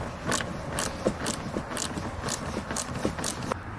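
A 10mm socket loosens a bolt on a Can-Am Maverick X3 during door and windshield installation: a quick series of sharp ratcheting clicks in regular rhythm, close and moderately quiet.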